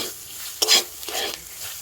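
Boiled, hand-mashed potato is stirred into spices in a pan with a spatula, making two or three quick scraping, sizzling strokes close up against a quiet background.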